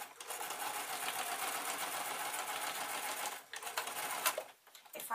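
A sewing machine stitching the lining of a make-up bag: a fast, steady whirring stitch run close by, briefly slowing and stopping near the end before starting up again, with no talking.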